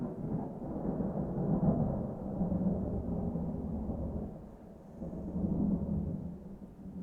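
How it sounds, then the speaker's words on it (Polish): Low, rolling thunder from a thunderstorm rumbles continuously with slow swells in loudness, a deep sustained roar and no voices. "Co za takie burze?"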